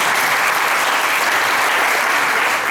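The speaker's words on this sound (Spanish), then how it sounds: "Luis, un aplauso para Luis también." Steady, dense applause from a dance school's end-of-year show audience fills the space, loud and continuous without a break throughout.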